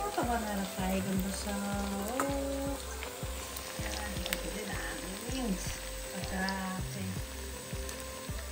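Buffalo meat frying in a pan for achar, a steady crackling sizzle under background music, fairly close and continuous.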